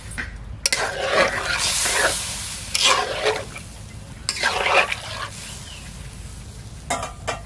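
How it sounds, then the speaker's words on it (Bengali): Water goes into a pan of fried brinjal and spices for a village-style river-fish curry, heard as loud bursts of hissing sizzle and bubbling that rise and fall in several waves. "এখন ঝোলের জন্য জল দিয়ে দেব।"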